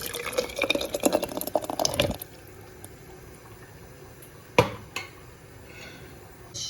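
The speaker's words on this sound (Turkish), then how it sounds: "Melemenlerim kıvamını aldı. Şimdi şişelerime boşaltıyorum." Hot Turkish melemen, a tomato and pepper sauce, poured from a pot into glass bottles, a thick glugging, dripping stream for about two seconds, then quiet with a couple of glass clinks.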